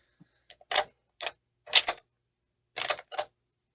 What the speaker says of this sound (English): See how when I close the bolt